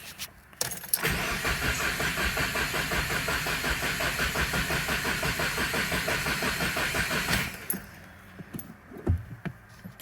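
A Subaru WRX engine cranks steadily for about seven seconds with the clutch and gas pedal held down, a loud, even rhythmic churning from close by that stops abruptly and leaves a few faint clicks and knocks.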